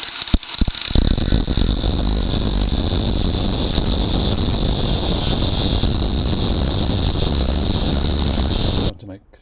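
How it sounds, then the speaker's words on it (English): An angle grinder cuts into a BMW R1200GS rear suspension strut, a loud, steady, high whine with a harsh broadband roar that holds for about eight seconds, then cuts off abruptly. "time for the angle grinder."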